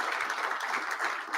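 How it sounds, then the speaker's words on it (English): A conference audience applauds in a dense, even wash of clapping that holds steady throughout, heard from within the room. "And so he deserved more claps."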